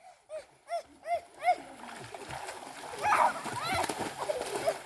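Water splashes during a swimming lesson as a child kicks and slaps with hands and legs, a rough churning burst near the close. Earlier a voice calls out in rhythmic, rising shouts.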